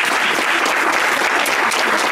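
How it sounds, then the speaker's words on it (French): An audience of sixth-grade students applauds a school theatre performance, a loud, dense wash of clapping that runs steadily throughout and stops abruptly at the end. "Les applaudissements."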